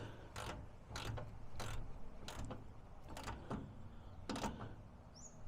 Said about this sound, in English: we're just going to tighten this up